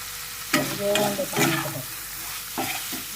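Chicken liver fries in a pan with turmeric and curry leaves, giving a continuous sizzle broken by several scraping stirs of a spoon, close and fairly loud.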